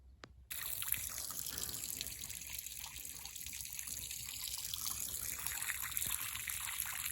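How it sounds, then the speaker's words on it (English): Water runs steadily from a well-fed line into a stock tank for bulls at a cattle feeding setup, a continuous soft trickling hiss starting after a brief quiet moment and holding level throughout. "first thing I'm going to do is start the water for the bulls"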